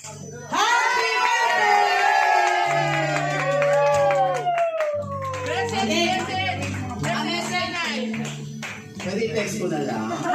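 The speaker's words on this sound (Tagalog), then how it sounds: "Ito na. Palakpak." Guests clap at a birthday celebration, scattered applause rising under lively singing and chatter from the crowd, with music-like voices dominating throughout.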